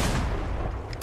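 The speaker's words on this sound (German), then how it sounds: "Ja, die Festung schießt auf uns." Cannon fire from a fortress in the Sea of Thieves pirate video game, a dense, loud booming barrage of blasts filling the whole moment, with a sharp final crack at the end.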